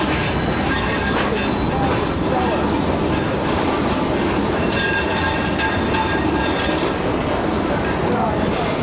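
Train pulling in at platform 4 of a Pakistani railway station, a continuous loud rumble with rhythmic wheel clatter and faint squeals, close by and steady throughout.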